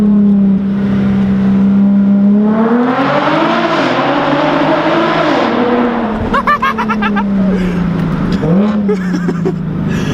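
A Nissan 370Z with a Tomei exhaust drones at a steady pitch, then revs up and climbs sharply, with quick throttle blips and popping near the end, loud and close.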